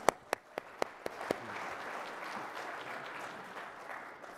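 Audience applause at a startup competition fireside chat, opening with a few sharp, separate claps that swell into steady, moderate crowd clapping sustained in a hall.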